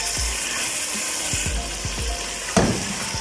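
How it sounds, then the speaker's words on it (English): Tandoori chicken pieces fry in leftover oil after the water has cooked off, giving a steady, close sizzle broken by several scraping stirs and a sharp clatter near the end. "oil is left, in which we are frying the chicken piece"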